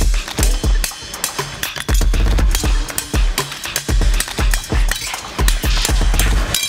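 Hammer striking a knife blade during cold forging, loud sharp metallic blows repeating in a steady rhythm, close and alone without talk.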